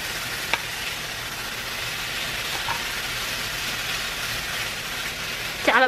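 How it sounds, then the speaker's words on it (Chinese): Bacon fries in a pan, giving a steady, even sizzling hiss that stays at one level throughout, with a brief faint squeak near the end. "加了培根炒就超级香。"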